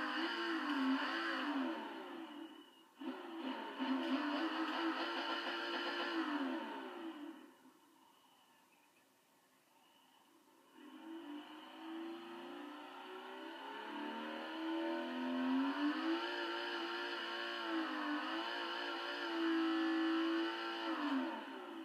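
A 1995 RUF CTR2, a Porsche-based car, starts up and revs hard, its engine note rising and falling through repeated throttle blips, close and loud, with a brief dip to idle midway before climbing again.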